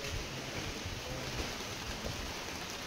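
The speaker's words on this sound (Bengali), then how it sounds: "দেখো বৃষ্টি পড়ছে কিভাবে" Rain falls outdoors beside a clay cooking stove during a stormy, cloudy day in rural Bengal. It is a dense, steady, fairly faint wash of rainfall with no voices.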